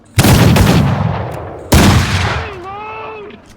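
Two massed musket volleys from ranks of soldiers in a historical battle game, each a loud crackling blast that fades over about a second, with a shouted command cutting in faintly at the end.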